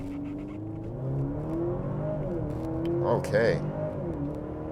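A 2023 Maserati Grecale luxury SUV launches from a standstill in sport mode, its engine rising in revs through an upshift and pulling hard, recorded from inside the cabin with brief speech at the start.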